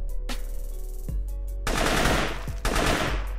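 Gunfire in the isometric tactical shooter Operation Valor: two single sharp shots, then two long, rapid automatic bursts, loud and close, with no talking.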